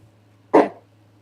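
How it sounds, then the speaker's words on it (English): A dog gives a single short, sharp bark, fairly close and loud, against a quiet room with a low steady hum. "nothing's wrong. That's my dog."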